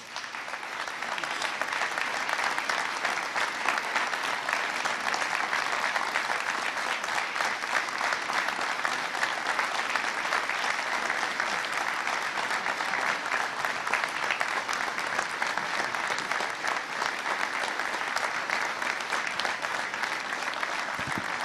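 A large audience at a New Hampshire political event breaks into sustained, dense applause that holds steady and loud from start to finish, with no break.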